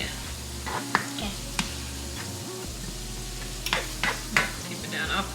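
Ground meat with Italian seasoning frying in a pan for taco boats, giving a low steady sizzle with a few sharp clicks and taps of a utensil against the pan.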